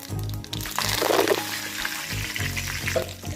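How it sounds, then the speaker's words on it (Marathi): Mustard seeds, cumin and curry leaves crackle in hot oil in a kadhai while stuffed brinjal masala is being prepared, a dense steady sizzle with popping bursts, fairly loud and close, with no talking. "राई चांगली चढचडली आहे आपण यामध्ये जिरं टाकूया आणि मग यामध्ये आपण जरा कढीपत्ता पण ऍड करूया"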